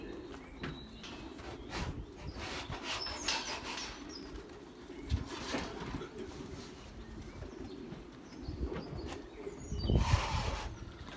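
Belgian racing pigeons coo softly near a home loft after a young-bird training toss, with low repeated calls, occasional wing flaps and a bird-filled background.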